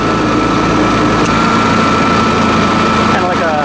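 Honda 7000 watt generator at full throttle with eco throttle off, running an old 220V air compressor: a loud steady engine drone with a faint crackle near the end, under a voice talking.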